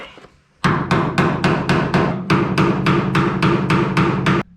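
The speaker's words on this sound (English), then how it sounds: "Good old chisel. Let's just keep chiseling it away." A chisel is hammered against the metal sill of a Holden HQ car: about fourteen loud, evenly spaced close blows in a steady rhythm, alone without talk.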